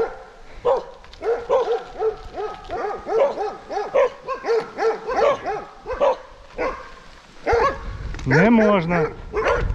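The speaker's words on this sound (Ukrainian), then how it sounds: "Ой, собаки." Several dogs bark repeatedly near a mountain pass road in the Carpathians, a rhythmic series of close, loud barks ending in whining yelps, with a person speaking briefly.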